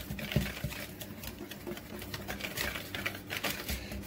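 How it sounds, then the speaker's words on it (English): Rapid, steady pattering of a whisk stirring German apple pancake batter in a bowl, close and continuous with a light clicking texture throughout. "we're going to just whisk this together"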